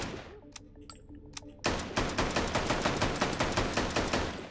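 Rapid automatic fire from a Remington in the VR shooter Hot Dogs, Horseshoes & Hand Grenades: a few sharp isolated shots, then a loud, steady burst of evenly spaced bangs running to the end.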